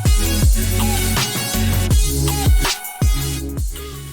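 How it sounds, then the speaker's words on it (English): Big, full layered supersaw synth chords pulse over a punchy kick in an electronic future bass style, loud and close with a short gap before the last hits. "learn how to layer some super saws, big and full and professional sounding, that sound like this"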